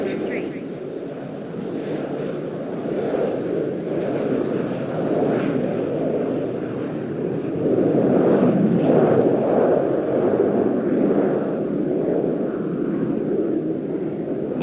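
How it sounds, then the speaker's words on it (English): A Qantas Boeing 747 jumbo jet airliner departs Melbourne, a steady, broad engine roar that runs throughout and swells slightly toward the middle before holding level. "Leaving Melbourne aboard a jumbo jet was an exciting event"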